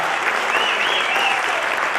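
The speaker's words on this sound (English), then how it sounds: "One more round of applause for Lou." An audience applauds at a networking celebration, with dense, sustained clapping at a fairly loud level and a faint voice or whistle rising briefly above the crowd noise.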